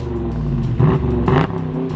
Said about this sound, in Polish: Posłuchajcie dźwięku wydechu, bo to też jest fajne.